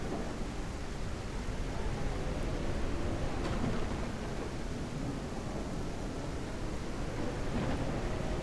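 Video game thunderstorm with steady heavy rain hiss and low rolling thunder rumbling underneath, a dense constant wash of sound with no talking.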